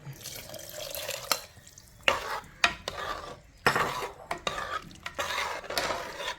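Chickpea curry stirred with a spoon after coconut milk squeezed from half a coconut is poured in, giving close, irregular scraping and liquid sloshing with sharp utensil knocks against the pot, no talking.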